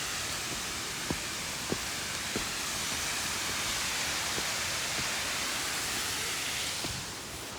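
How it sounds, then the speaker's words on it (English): Steady broadband roar of a waterfall at Paradise on Mount Rainier, a constant distant rush of falling water with a few faint clicks, unbroken for the whole stretch. "The waterfall noise?"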